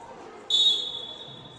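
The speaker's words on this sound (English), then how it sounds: "Referee blowing the whistle." Referee's whistle at an indoor soccer game, a single sharp blast lasting about a quarter second that tails off over the faint hum of the arena.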